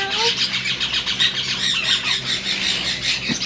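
A pet bird squawks and squeals repeatedly in loud, harsh bursts, close by, with a voice speaking faintly beneath.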